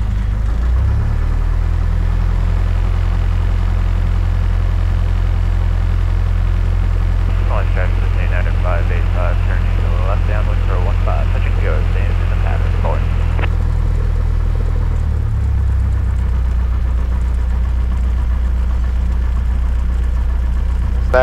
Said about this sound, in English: Cessna 99 Hotel Victor is taxiing onto runway 15 for departure to the